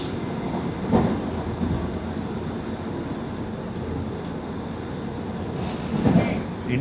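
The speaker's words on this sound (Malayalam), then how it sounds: "ഇതാണ് കോയമ്പത്തൂർ പോകുന്ന ഉദയ എക്സ്പ്രസ്." An Udaya Express train passes alongside a moving Vande Bharat Express as a steady, moderately loud rumbling rush of wheels and wind with a couple of soft swells and no clear voices.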